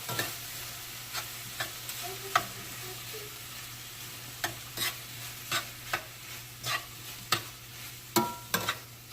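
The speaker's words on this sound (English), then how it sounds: "So I'm going to let this simmer for about maybe 10-15 minutes." Teriyaki chicken in browning sauce simmering in a pan over low heat gives a steady low sizzle, broken by a series of sharp utensil scrapes and taps against the pan at irregular intervals, with no talking.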